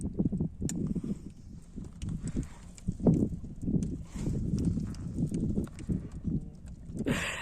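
Horse hooves clip-clop in a steady walking rhythm, close and moderately loud, over a low outdoor rumble.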